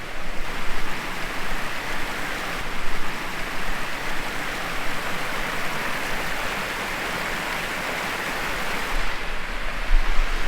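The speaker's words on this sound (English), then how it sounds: "And there's the river." A steady rushing of a flowing river in Helen, Georgia fills the whole stretch, broad and continuous, with slight swells in loudness.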